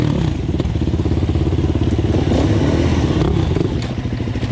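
A Yamaha WR450F dirt bike engine holds steady, loud revs close by, with a rough continuous buzz and clattering mechanical noise throughout.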